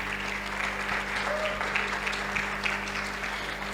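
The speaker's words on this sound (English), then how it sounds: "Could we welcome them with a round of applause," Audience at the Africa Media Festival applauding as a panel comes on stage, a dense, steady round of clapping from a hall crowd heard close and continuous.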